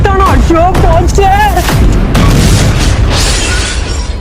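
A voice calls out, then a firecracker goes off in a loud, harsh blast followed by a lingering crackling rumble.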